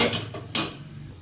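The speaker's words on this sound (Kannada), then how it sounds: "ಗ್ಯಾಸ್ ಹಚ್ಚೋಣ್ರಿ, ದವರಿ ಇಡ್ತೇವೆ ರೀ" A cooking pan set down on a gas stove in a home kitchen, giving a single clear metallic clank at mid-clip over a low steady hiss, with softer handling knocks before it.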